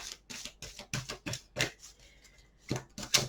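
Cards drawn and flipped from a tarot-style oracle deck in a series of quick, close, crisp slaps and shuffling snaps, with a short pause in the middle before two sharper flicks at the end.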